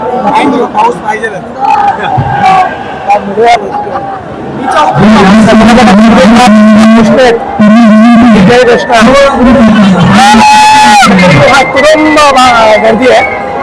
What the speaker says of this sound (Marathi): गर्दी आहे.